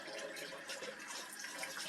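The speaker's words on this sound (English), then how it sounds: "I always rinse out my soda cans because I recycle them" Tap water runs steadily while a soda can is rinsed out, a close, even hiss of flowing and splashing water lasting throughout.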